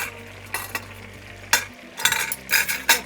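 Potatoes sizzle steadily in a frying pan while a spatula stirs them, giving scraping bursts and clatters over the soft continuous crackle, close and moderately quiet.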